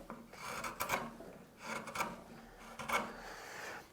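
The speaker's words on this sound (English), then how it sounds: "So I'm going to cut these short fibres to long, and the long fibres of the timber will support the cut." Hand tool working across timber to round over an edge, three rhythmic rasping strokes close up, each short and scratchy, with quiet pauses between them.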